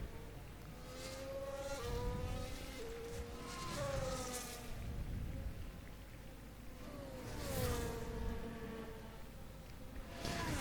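A Formula 1 car's engine screams across the line in Miami Grand Prix qualifying, heard faintly with rising and falling pitch as it passes, then again later; rain-like background hiss.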